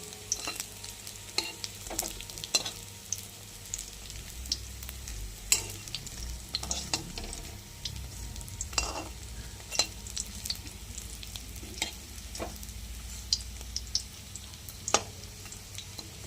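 Bora fritters fry in oil in a pan, a continuous soft sizzle broken by frequent light scrapes and taps of a spatula stirring them, fairly quiet and steady with no talk.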